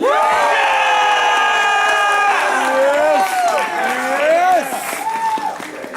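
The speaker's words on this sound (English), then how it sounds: "If you think Gohan has won this fight, cheer now!" A large audience at an anime convention cheers and shouts loudly for a fighting anime character during a costumed battle contest, with many voices whooping and yelling in a sustained roar that eases slightly near the end.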